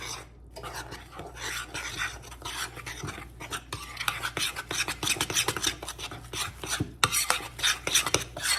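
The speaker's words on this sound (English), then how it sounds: "Get all the dry ingredients wet and the egg broken up and mixed into it." Cornbread batter of dry ingredients, milk and an egg is stirred by hand in a bowl, with continuous scraping and clinking strokes of the utensil against the sides, close and fairly loud.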